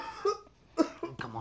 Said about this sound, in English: It's coughing on me, yaar.